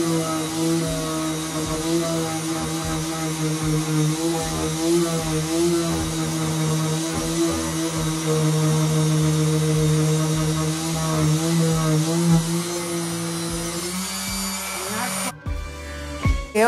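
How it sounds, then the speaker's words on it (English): A small orbital sander with 100 grit sandpaper scuff-sands a painted wooden dresser drawer, whining steadily at close range with a constant buzzing hum for several seconds, then cuts off abruptly. "I'm gonna take 100 grit sandpaper and my small sander to scuff sand the"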